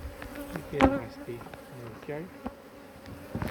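Bees buzz around an Omlet Beehaus beehive outdoors, a steady close drone with insects passing near; a brief voice is heard once.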